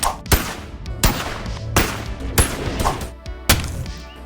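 Gunshots in the VR game Boneworks, fired at objects in a sandbox: five or six loud, sharp single shots spaced about a second apart, each with a short ringing tail.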